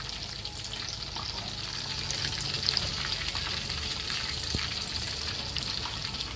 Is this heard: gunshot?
no